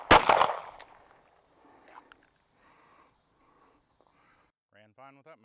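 A single sharp, loud gunshot from a Live Free Armory AMP Glock pistol cracks close by at the start, then fades into faint scattered sounds, with a short burst of speech near the end.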